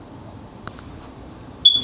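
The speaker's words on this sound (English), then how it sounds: "Someone need to fix that fucking fire alarm." A school fire alarm gives one short high-pitched beep near the end, after faint clicks over quiet room noise.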